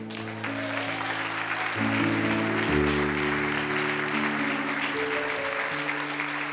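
Church congregation applauding together, a steady mass of clapping with organ or keyboard chords sustained underneath, fairly loud and continuous throughout.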